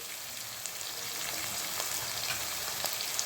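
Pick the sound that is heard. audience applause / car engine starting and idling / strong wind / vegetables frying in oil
vegetables frying in oil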